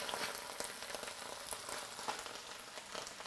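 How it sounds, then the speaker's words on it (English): Quiet, steady sizzle of pork frying in Thai curry paste and coconut oil in a pan, a faint crackling hiss with small pops throughout. "That means the paste is now frying."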